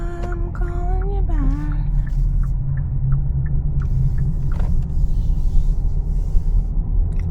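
A car drives up a steep road, its steady engine rumble heard from inside the cabin, with a brief rising whine near the start.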